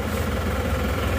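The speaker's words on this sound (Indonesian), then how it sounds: "kita akan coba menggeber-geber" Diesel engine of a vehicle with a smoking exhaust on a morning start, a rough, continuous low rumble with a knocking throb, loud and close, with no voices.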